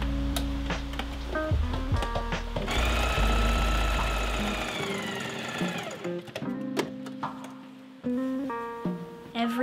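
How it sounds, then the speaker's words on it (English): A home sewing machine runs in steady rapid bursts while stitching a buttonhole for a gathered white skirt, its motor whirring close and even, pausing briefly between runs with faint handling noises in between. "Every time I have to do a buttonhole on my machine"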